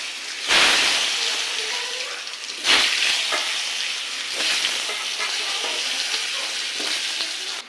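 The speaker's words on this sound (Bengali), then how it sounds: "কুমড়োটা ভাজা হচ্ছে" Pumpkin pieces frying in a pan, a loud continuous hissing sizzle that flares sharply twice as pieces are added or turned, with softer stirring between.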